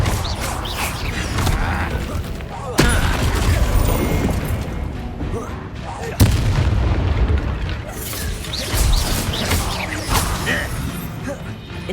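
The Confringo blasting spell in Hogwarts Legacy fires off repeated explosions, heavy booms with crashing debris over a dense, continuous battle din, with two sharp blasts standing out.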